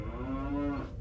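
A cow moos once, a drawn-out, tonal bellow lasting about a second, clear and close with nothing else over it.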